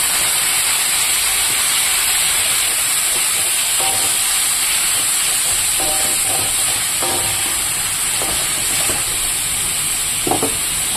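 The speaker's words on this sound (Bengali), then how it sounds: "এবার আমি চাল কুমড়োটাকে দিয়ে দেবো" Pieces of ash gourd go into hot oil already tempered with cumin seeds, a loud, constant hiss and sizzle holding steady throughout, broken by faint spoon clinks and a brief knock near the end.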